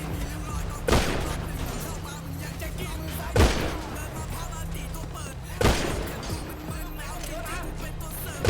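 Gunfire in the video game GTA, three sharp loud blasts spaced a few seconds apart over constant background game noise and engine hum.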